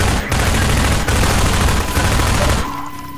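Sustained automatic gunfire in the shooter game Half-Life 2, a loud continuous barrage lasting nearly three seconds before cutting off into quieter game ambience.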